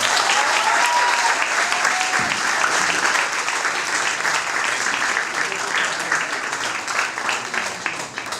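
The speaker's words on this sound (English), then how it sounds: "Y'all give it one more time for my Haas, right" Sustained audience applause after a spoken-word poetry performance at an East Africa fundraising event, a dense steady clapping that fills the whole stretch with scattered cheers and whistles on top, slowly easing near the end.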